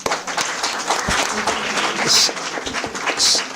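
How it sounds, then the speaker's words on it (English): A warm round of applause from participants at an HR conclave, a sustained crackle of many hands clapping at moderate loudness, with a couple of brighter swells near the end. "Let us acknowledge their efforts with a warm round of applause."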